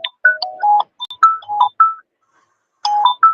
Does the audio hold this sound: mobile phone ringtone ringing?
yes